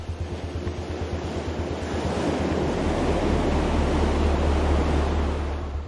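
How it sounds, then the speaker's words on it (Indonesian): Ocean waves crash and surge near a low coral rock hill, a loud, continuous roar of surf with rumbling low wash building and fading, alone without any voices. "Aku masih bisa mendengar bunyi ombak yang datang dan pergi."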